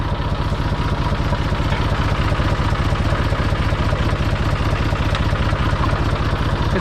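A farm tractor engine runs nearby with a loud, steady, rapid chugging throb and mechanical clatter, unbroken for several seconds.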